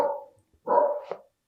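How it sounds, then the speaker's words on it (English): A dog barks twice, two drawn-out, fairly close barks separated by a short pause, with no talking. "my dog barking"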